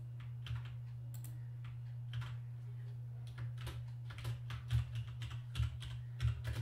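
Java code typed on a computer keyboard in BlueJ, an uneven run of quiet key clicks that bunches into faster bursts toward the end, over a steady low electrical hum.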